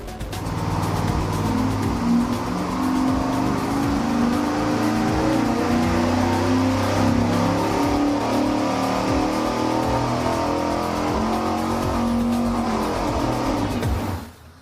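An engine fitted with long-tube headers and a small cam revs hard on a dyno, a loud sustained roar climbing steadily in pitch for about fourteen seconds before cutting off abruptly.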